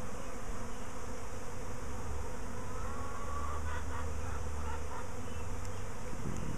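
A honeybee swarm coats the front of a hive, making a steady, dense buzzing drone that holds throughout with no talking.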